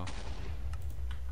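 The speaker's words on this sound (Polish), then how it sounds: "Co to wybuchło?" A blast goes off in the Minecraft video game, a loud, broad rumbling burst with heavy low-end that fills the whole short moment. No one speaks over it.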